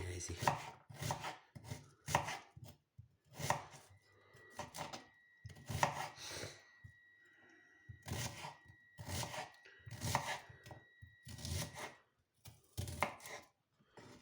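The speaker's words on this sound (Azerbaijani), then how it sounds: "Bax belə doğrayıb qabımıza qoyuruq." Lettuce sliced thinly with a knife for a salad, a long run of crisp chopping strokes in rhythmic bursts, close up and quiet, with brief pauses between groups.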